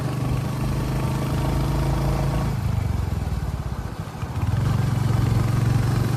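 A motorcycle with a modified, loud silencer passes close by, its deep, throaty engine drone holding steady, dipping briefly, then swelling again, heard from another moving bike on a monsoon road trip.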